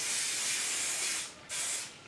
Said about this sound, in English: And I'll spray underneath with the Freeze It.